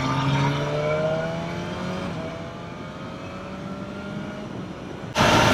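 A BMW S1000R motorcycle's engine and exhaust drone steadily with falling pitch as revs drop, then a louder burst of broadband noise cuts in near the end.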